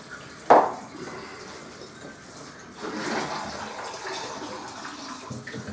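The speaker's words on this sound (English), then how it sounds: "Now, just rinsing this with a little jug, hot water obviously." Hot water poured from a small jug to rinse new home brew beer kit equipment, a sharp splash at the start followed by steady running and trickling water, fairly close.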